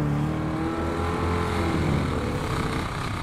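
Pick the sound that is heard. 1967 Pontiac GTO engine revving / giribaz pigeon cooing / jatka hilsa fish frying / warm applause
1967 Pontiac GTO engine revving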